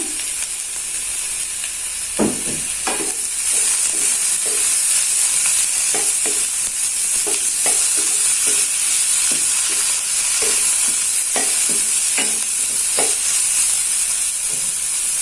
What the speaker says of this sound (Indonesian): Dan untuk dagingnya saya masukkan.